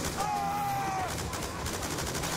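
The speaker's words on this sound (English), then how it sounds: "But they're shooting at me, so I'm kind of having to shoot at them." Gunfire in the video game Black Ops 2, rapid bursts of shots crackling over game sounds with a brief whistling tone early on, moderately loud.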